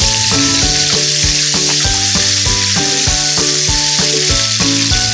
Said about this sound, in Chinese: 倒入洋葱丝， 大火翻炒约30秒。